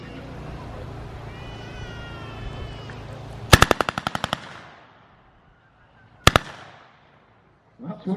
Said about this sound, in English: then you change the fire selector to fully automatic